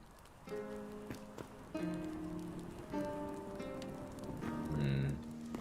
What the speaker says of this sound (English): Oh, it's raining through here.